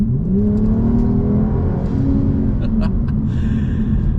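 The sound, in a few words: car accelerating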